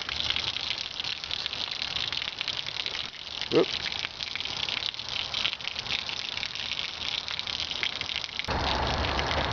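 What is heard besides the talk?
water draining from storage container spout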